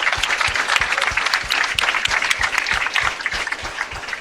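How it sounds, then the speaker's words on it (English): An audience at a project showcase applauds, with close, distinct claps in an uneven rhythm over a bright, dense wash of clapping hands, lasting the whole stretch. "Let's give a round of applause to all the Grace Hopper projects"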